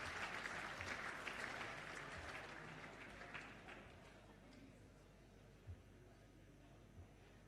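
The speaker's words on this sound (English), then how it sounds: "would you please give them a round of applause" An audience at an AFL medal presentation night applauds, a dense wash of clapping that fades gradually, with a few faint thuds near the end.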